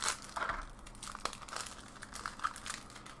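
Plastic packaging of an MTG Commander 2019 deck crinkling and tearing as it is opened, with close, quiet, continuous rustling and a few sharper crackles.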